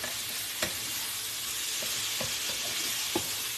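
Meat for quesadillas heats through in a hot pan with a steady, close sizzle, broken by a few soft scrapes of stirring. No one speaks.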